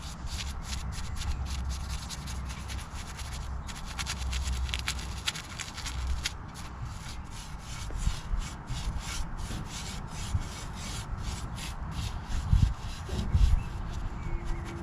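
A brush scrubs rust treatment into the nooks of a Rover P4 driver's side step, giving continuous close scratchy strokes with a few louder knocks near the end and no talking.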